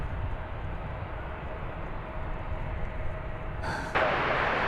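An Airbus A350-1000 jet lands at DFW Airport, a distant, steady broadband engine roar that brightens and swells slightly near the end.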